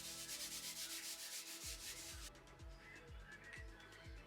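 Scuff pad rubbing a Honda Civic EK hatch interior panel: steady rapid scrubbing strokes up close, then a slower series of distinct scraping passes.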